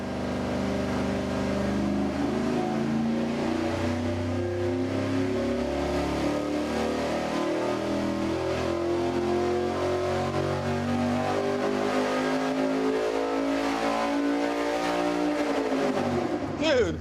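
A dyno-mounted engine with lighter rotating mass revs hard and steadily, its note climbing and holding loud and close before dropping off at the end, with voices talking underneath.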